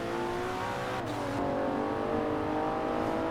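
A modern S1 sports car's engine revs on a test track, a sustained harmonic drone that shifts in pitch partway through, loud and steady with no talk.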